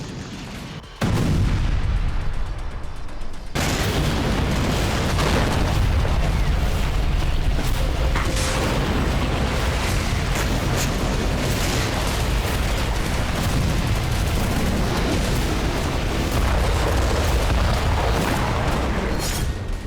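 Explosions and gunfire during border clashes between Hezbollah and Israeli forces in southern Lebanon: a sudden loud boom after a short quiet stretch, then a long dense barrage of blasts and rapid shots that keeps going.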